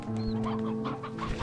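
Hens cluck inside a cage in the Slime Rancher 2 video game, several short close clucks in quick irregular succession over a steady low droning background hum.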